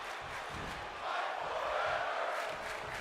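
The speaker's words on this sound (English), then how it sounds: "And now you got the crowd with Fight Forever chants." Arena crowd in the WWE 2K25 wrestling video game chanting during a SmackDown match, a dense, steady roar of many voices that swells midway and holds, with no commentary over it.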